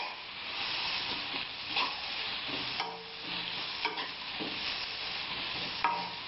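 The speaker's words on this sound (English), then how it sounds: "Just add the sliced onions first. Mix it with the oil." Sliced onions frying in oil while being stirred for chicken biryani, a steady moderate sizzle with periodic scraping and light clicks of the spoon against the pan.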